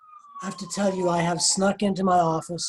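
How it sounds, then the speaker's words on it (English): Emergency sirens from ambulances and fire engines outside an office on Clifton Avenue, audible as a faint wail under continuous close speech. "there's ambulances and fire engines"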